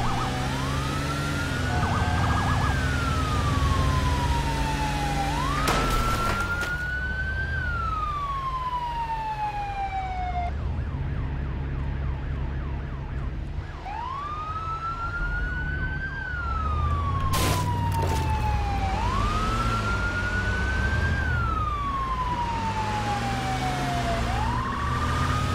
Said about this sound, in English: is Lirik driving to school getting chased by cops and SWAT